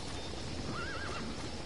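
A horse in the video game Metal Gear Solid V neighs once with a brief wavering whinny, faint under steady background game noise, with light hoof clip-clop.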